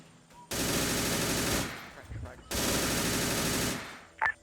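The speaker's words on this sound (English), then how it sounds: "Looks like we're being engaged by the MG on the right" Two sustained bursts of machine-gun fire from an MG in the Arma 3 military shooter, each lasting about a second, separated by a short pause with faint scuffling and a brief click near the end.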